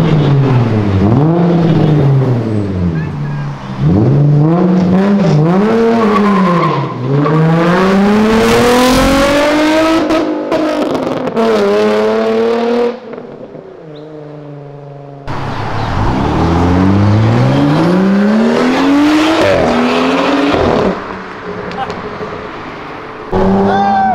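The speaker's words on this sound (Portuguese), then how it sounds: "pouco carro consegue ser tão bom assim de ronco, velho" A Zetas car engine roars loudly as it passes on a city avenue, revving through repeated rising and falling sweeps, then briefly drops to a low idle before roaring again, with people talking over it.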